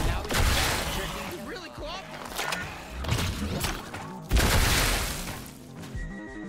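Enemy gunfire in the High On Life video game comes as repeated loud bursts and impacts, mixed with game effects and a player talking over the action.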